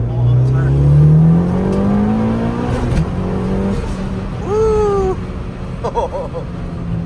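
A turbocharged Honda Civic EG revs hard up through the gears, a loud rising engine pull heard from inside the car, then eases off as a person whoops and cheers over it.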